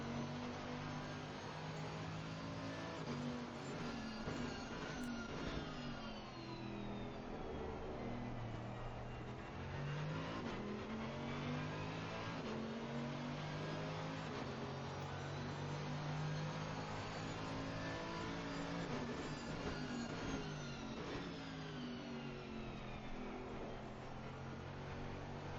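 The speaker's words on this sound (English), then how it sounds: "Let me go on board so you can hear the engine." A race car engine in the video game Assetto Corsa Competizione at Zolder roars steadily from onboard, revving up and down through gear changes with rising and falling pitch, loud and continuous.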